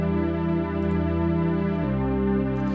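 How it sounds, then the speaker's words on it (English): A low, sustained synthesizer pad holds soft harmonic chords, shifting to a new lower chord partway through, steady and alone. "It's the same low pad that was doing the backup harmony for the music box"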